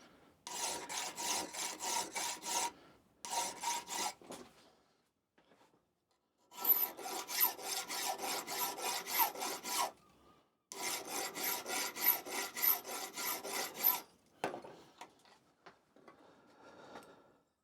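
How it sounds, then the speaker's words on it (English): Metal clamped in a vise being hand filed, steady rasping strokes in several long runs with short pauses between, close and fairly loud with no talking. "the problem with having a vise that's too low is that you're always tempted to file downhill"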